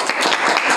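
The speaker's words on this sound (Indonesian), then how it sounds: "Oke, tepuk tangan untuk Mila." Classmates clap for a student in a school classroom, a short burst of close, quick hand claps lasting under a second.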